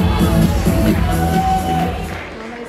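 A KVN comedy show audience cheers and whoops with a loud, dense roar of crowd noise and music-like tones, sustained for a couple of seconds before tapering off.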